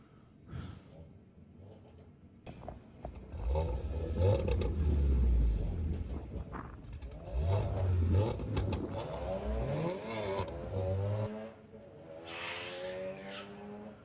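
A VW Golf drag car launches at a drag strip, with a rising engine rev swelling into a loud roar and a squeal of tyres breaking loose before it fades off.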